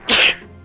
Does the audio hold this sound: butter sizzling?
no